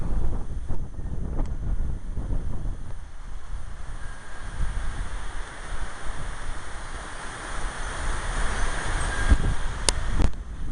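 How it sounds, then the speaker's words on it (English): Wind blows hard outdoors, buffeting the microphone with a continuous low rumble and gusts, while a few sharp knocks and clicks break through near the end. "Boy, she's getting windy out."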